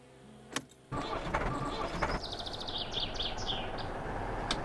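A vehicle engine in the video game My Summer Car cranks and catches at about the one-second mark, then runs at a steady loud idle, with bird chirps over it.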